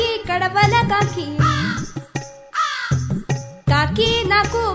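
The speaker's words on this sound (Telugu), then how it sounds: "కాకి కాకి కడవల కాకి," Cawing crow in an animated Telugu children's song, a series of harsh, loud caws in short bursts with pauses between them, and no speech over them.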